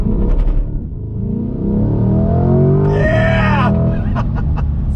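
A 2020 Chevrolet C8 Corvette Z51 engine revs hard under throttle while accelerating, its pitch climbing steadily, loud and close, with a brief higher whine partway through.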